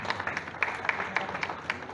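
Faint audience clapping at a stage event in Kamareddy as a guest is welcomed up, a thin scatter of individual claps in a loose irregular rhythm, heard from some distance.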